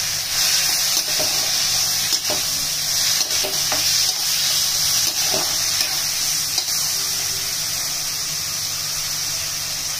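Zucchini and tomatoes frying in a pan for keto poha, a steady sizzle throughout with occasional stirring scrapes and clicks close by, no talking.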